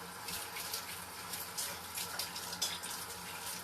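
Kitchen tap running steadily while sticky honey is rinsed off a spoon, a continuous hissing splash of water close by with slight fluctuations, no voices.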